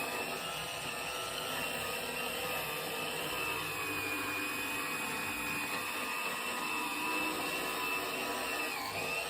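An 85-year-old valve seat grinder runs continuously on an engine head's valve seats, giving a steady, loud motor whine with a bright grinding hiss that holds without pause, and no one speaks.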